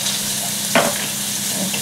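Breaded haddock fries in a pan with a steady close sizzle and crackle, broken by a brief louder spatter partway through.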